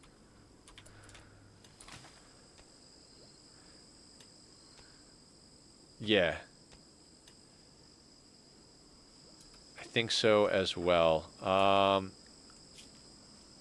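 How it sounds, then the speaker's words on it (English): Steady, high insect buzzing and chirping from crickets runs as ambient background in the video game RimWorld, with a few short bursts of speech over it. "There are crickets. Like there's a buzzing chirping."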